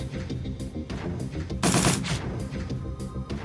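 Rapid automatic gunfire in the video game Shadowrun: Dragonfall, a rhythmic burst of shots with one louder blast midway, no voices.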